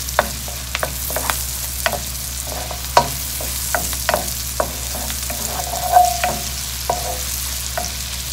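Onion frying in butter for beef short ribs with black beans and bell pepper: a soft continuous sizzle broken by scattered close clicks and scrapes of stirring, no voices.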